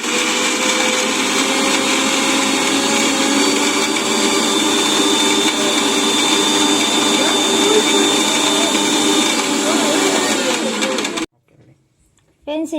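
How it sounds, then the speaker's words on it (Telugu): Mixer grinder whirring steadily as it blends onions, ginger, small onions, coconut and green chillies into a smooth paste, a loud continuous motor drone with rattling that cuts off abruptly near the end. "ఫ్రెండ్స్, ఈ విధంగా మనం మిక్సీ పట్టుకోవాలి మెత్తగా."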